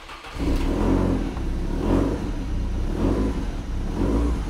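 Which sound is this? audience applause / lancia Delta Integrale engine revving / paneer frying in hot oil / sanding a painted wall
lancia Delta Integrale engine revving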